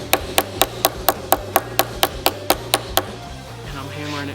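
Hammer striking a flat piece held against a subwoofer box, thirteen sharp, evenly spaced knocks close by, then stopping as a steady hum carries on.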